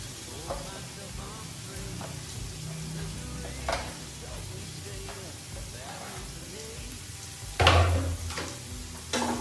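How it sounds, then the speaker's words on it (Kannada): Finely chopped onions frying in a pan for village-style chicken curry, a low steady sizzle with occasional scrapes and a louder clatter near the end; quiet talk drifts in at times. "ಸೊ ಈರುಳ್ಳಿ ಎಲ್ಲ ಹಾಕ್ಬೇಕು, ಎಲ್ಲ ಹಾಕ್ಬಿಡ್ತೀನಿ"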